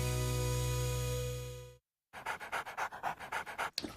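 A dog pants rapidly and steadily, close and clear with no talk, following a sustained tonal hum that cuts off abruptly.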